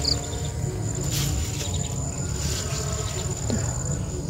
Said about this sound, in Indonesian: kayaknya sudah mulai terdengar suara-suara jangkrik.